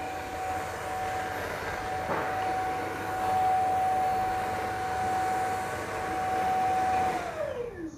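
An LG R9 robot vacuum cleaner runs up close with a steady whooshing motor hum and a sustained whine that drops in pitch near the end as it winds down; no one speaks.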